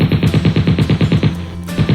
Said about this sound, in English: Hey, good shooting, Billy